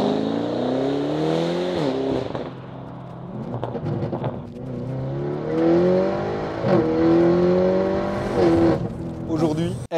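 A latest-generation Audi RS6 with a stage 2 setup (downpipe, sport catalytic converters and a full straight-pipe exhaust) revs loud and close, its engine note climbing and dropping in several repeated blips.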